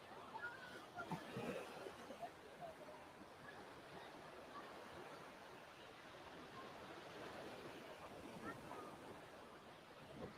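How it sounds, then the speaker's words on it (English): Ocean waves breaking on a Hawaii beach with a broad sandy point, a steady wash of surf rolling on and off, moderately distant and fairly soft, with wind buffeting the microphone. "these waves are really nice right here"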